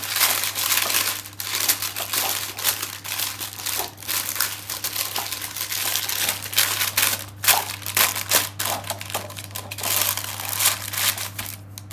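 Paper is crumpled and crinkled into a cup for pastillage, continuous close-up rustling and crushing with a steady low hum underneath.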